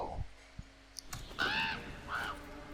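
Ravens caw twice in League of Legends, two harsh calls about half a second apart after some faint clicks. Both are moderately loud, with no talk over them.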